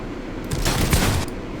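A brief burst of gunfire during a Fortnite fight, a loud close volley of a few rapid shots lasting under a second.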